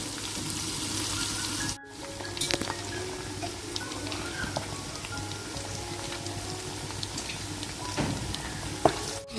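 Onions sauté in a pan with a continuous crackling sizzle, broken by a brief pause and scattered pops and clinks of stirring, fairly faint and with no voices.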